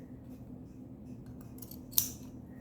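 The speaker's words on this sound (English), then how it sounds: "I'm going to cut this down" Scissors give a single sharp snip as they cut down a paper file folder, close and quiet, over a faint low room hum. No one speaks.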